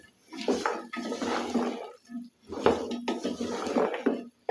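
A spoon stirs potatoes, cauliflower and spinach in a metal cooking pot, with two stretches of loud scraping and clattering separated by a short pause.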